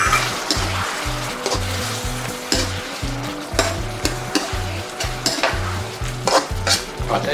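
Wood ear mushrooms stir-fried with stock in a pan, a rhythmic scrape of a spatula repeating steadily under a constant loud sizzle, with no talking.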